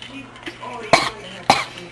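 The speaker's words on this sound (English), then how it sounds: "don't cough at my face" Two sharp coughs from a person nearby, about half a second apart, following quieter talk and breathing in a small room.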